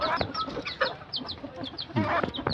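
Soft repeated clucks from a white red junglefowl hen, short chirpy calls coming every fraction of a second at close range, with faint outdoor background and no talk.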